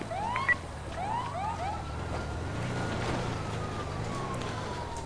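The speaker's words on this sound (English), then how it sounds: "Just one car left their sirens on over there" Police car sirens wailing in the GTA 5 video game, a rising and falling electronic wail that starts with quick yelps and then holds a long steady tone, moderately loud over low background rumble.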